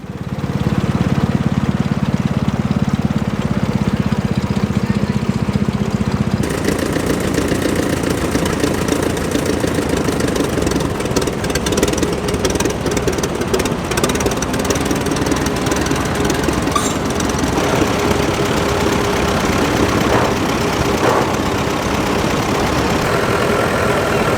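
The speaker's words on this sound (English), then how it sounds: "A very unusual sight in the UK, the Monktails tractor from Sweden." A vintage Swedish Munktell tractor engine runs steadily at idle at a steam fair, a loud continuous knocking chug with no pauses.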